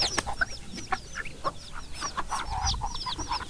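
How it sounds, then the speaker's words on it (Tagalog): A flock of farm ducks calls out in busy overlapping quacks and clucking, close and steady across the whole stretch, with no talking. "Ayan yung mga itik natin."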